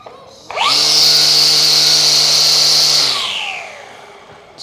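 A Husqvarna 325 battery line trimmer spins up sharply, holds a loud steady high whine for a few seconds, then winds down as the motor slows.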